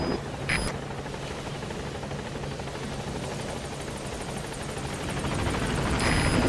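The support helicopter in the video game Metal Gear Solid V arrives with a steady, close rotor roar that swells slightly louder toward the end, with brief electronic beeps at the start and finish.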